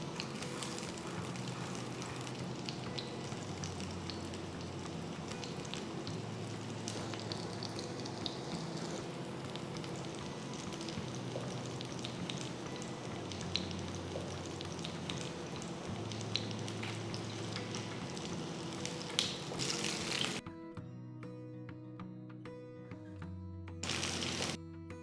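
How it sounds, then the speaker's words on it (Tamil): Fish frying in sesame oil in a pan, a steady, close crackling sizzle that runs unbroken for a long stretch before dropping to a quieter, sparser spitting near the end. "சூடானதும் மீன் பேனில் வச்சு ஃப்ரை பண்ணுங்க. நான் இன்னைக்கு நல்லெண்ணெய் யூஸ் பண்ணுறேன்."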